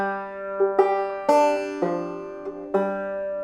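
A banjo picked in thumb-lead, two-finger style plays a short measure of mostly open strings, a handful of bright plucked notes with ringing harmonics, close and moderately quiet, with no voices.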